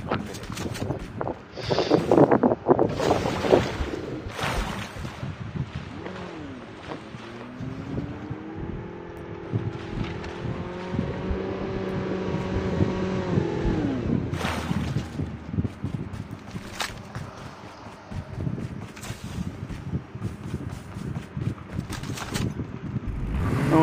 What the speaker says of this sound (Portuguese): Ah, tem um carro de quatro lugares aqui depois